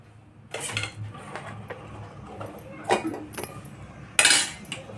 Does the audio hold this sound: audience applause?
no